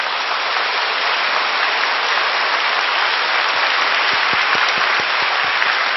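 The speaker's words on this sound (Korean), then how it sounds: "우리 하나님께 감사의 박수 올려 돌리십시오." A church congregation bursts into loud, sustained applause during a sermon, dense and steady throughout, with a few sharper individual claps standing out near the end.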